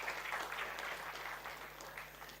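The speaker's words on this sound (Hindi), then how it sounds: "ताली बजाओ यार" Sustained applause from a seated audience fills the hall during a railway minister's public speech, a steady dense clapping that holds for the whole stretch and fades only slightly at the end.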